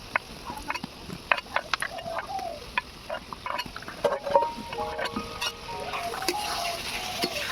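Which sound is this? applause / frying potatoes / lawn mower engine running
frying potatoes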